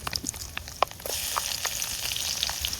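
Fennel seeds sizzle in hot oil with onions and curry leaves for a chicken curry, a few sharp pops and taps at first, then a steady close frying hiss.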